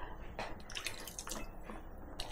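Water is poured into a fish curry mix for Udupi-Mangalore style mackerel puli munchi, making soft, faint splashes and drips in short bursts with no talking.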